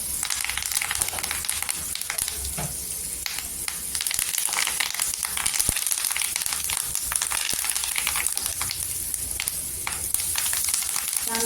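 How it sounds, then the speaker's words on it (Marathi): Curry leaves dropped into hot oil for a vangi-batata gravy sizzle and crackle loudly, a bright hissing spatter with sharp pops, close and continuous for the whole stretch. "इथे कढीपत्ता टाकायचा"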